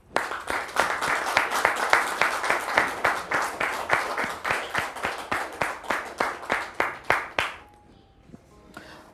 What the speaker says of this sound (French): Merci de recevoir maintenant la sœur Aurélie sous vos applaudissements, s'il vous plaît.